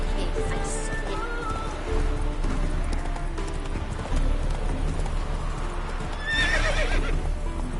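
Horse hooves clip-clopping at a steady gallop in The Witcher 3 video game, with a whinny and layered game music and ambience throughout, the rhythm continuing without a break.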